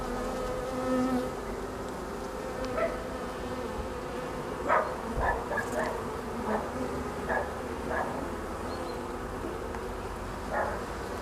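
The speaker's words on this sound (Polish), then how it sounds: "Nieduża to ilość pszczół" Dense buzzing of many honeybees, a constant close drone with occasional brief louder zips as individual bees fly past.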